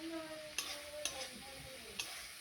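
Bhindi and potato masala being sautéed in a pan, with a soft background sizzle and three distinct spatula knocks against the pan.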